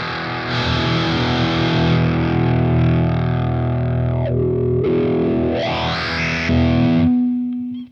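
Heavily distorted electric guitar through an MXR Power 50 amp-in-a-box pedal plays sustained chords and pitch-bending slides, thick and loud, ending on a ringing held note.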